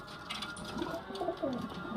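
A male Muski pigeon coos softly and close, a few low wavering calls in a short sequence over faint background noise, with no talk.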